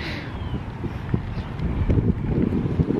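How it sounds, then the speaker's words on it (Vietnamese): Strong wind gusting outdoors, roaring and buffeting the microphone in a steady, loud rush that swells louder toward the end, with no clear speech. "Trời ơi gió gì mà gió."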